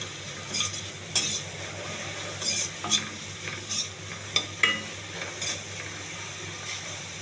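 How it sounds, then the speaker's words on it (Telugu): Onions, curry leaves, green chillies and mint frying in a pan for potato curry: a soft, steady sizzle broken by repeated clinks and scrapes of a spoon stirring against the metal, close and fairly quiet, with no talking. "కోసి పెట్టుకున్న ఉల్లిపాయలు, కరివేపాకు, పచ్చిమిర్చి, పుదీనా ఇవన్నీ వేసి బాగా వేగనివ్వాలి"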